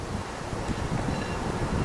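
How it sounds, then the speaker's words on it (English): Wind buffeting a microphone outdoors beside a 1973 Pontiac Trans Am Super Duty SD-455, a continuous low rumbling roar that fills the whole moment without pause. "I'm going to block off that wind to the best of my abilities."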